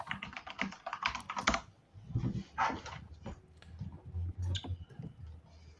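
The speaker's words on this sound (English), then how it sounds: "judging by the sounds of mechanical keyboards in the background, there are still some discussions occurring" Mechanical keyboards clattering in the background during an online board game session, with irregular bursts of fast key clicks at moderate volume and brief pauses between flurries.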